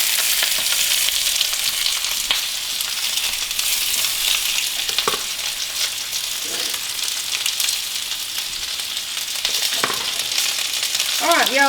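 Potatoes frying in very hot fat in a pan give a steady, loud, dense sizzle throughout, with occasional stirring scrapes.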